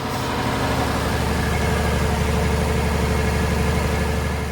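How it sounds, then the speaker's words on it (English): An engine idles steadily with a low, constant rumble, close and loud, running alone with no voices. "We need to run the engine to see where this damn leak is."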